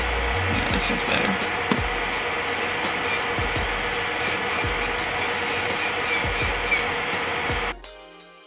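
A nail drill fitted with a 5-in-1 bit files builder gel on nails, a continuous close mechanical whir with faint scraping and small bumps, stopping abruptly near the end.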